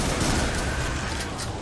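Shotgun gunfire in the horror video game Butcher, a dense rapid burst of blasts running together across the short stretch, loud and close with no talking.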